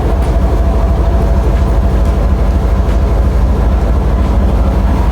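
A loud, steady rumble of a train at a railway station on the Colombo to Batticaloa line, with a continuous low drone and faint rhythmic clatter, no voices.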